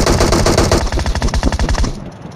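Rapid automatic gunfire in the mobile battle royale game PUBG Mobile, a loud burst of closely spaced shots lasting about two seconds before cutting off.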